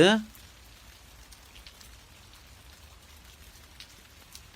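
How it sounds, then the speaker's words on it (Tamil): Steady rain falls at a house as a continuous, even hiss of drops on surfaces, with a brief voice at the very start. "மழை வருதுடா, உள்ளவா."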